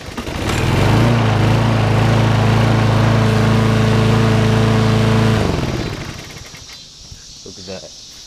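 Small gasoline engine, freshly fitted with a new spark plug and filter, runs loud and steady at close range with a strong droning hum for several seconds, then cuts off and fades, leaving faint rustling.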